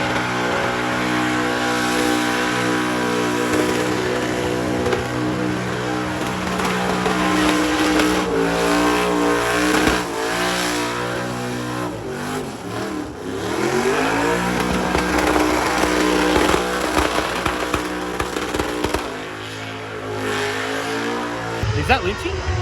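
Cars rev hard and hold high-pitched engine wails during burnouts on the Summernats burnout pad, with rising and falling revs, a loud, continuous roar throughout, and voices underneath.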